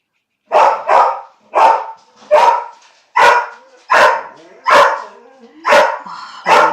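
A dog barks nine times in a steady, evenly spaced rhythm, each bark loud and close with short pauses in between, in a quiet indoor room.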